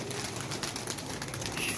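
Startled pigeons coo continuously at close range in a low, murmuring flutter of calls, with no one speaking.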